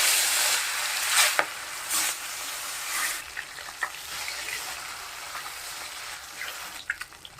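Rohu fish pieces frying in hot mustard oil with a little turmeric in a kadai, a loud, steady crackling sizzle throughout with a few sharper pops and stirring scrapes near the end.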